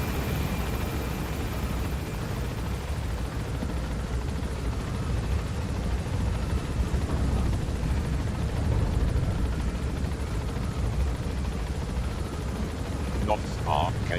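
Helicopter in the video game Metal Gear Solid V rotor noise roaring steadily and loudly as it takes off and gains altitude, a dense continuous wash throughout with faint clicks near the end.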